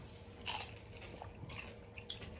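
Crunchy bites into food close to the mic, a sharp crisp bite followed by quieter crunching and chewing over a couple of seconds, with no talk.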